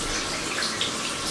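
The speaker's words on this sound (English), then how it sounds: "Turn the water on." Water runs steadily from a faucet fitted with a newly installed Mixet MXT07 cartridge, a smooth, constant hiss of flow heard close and alone.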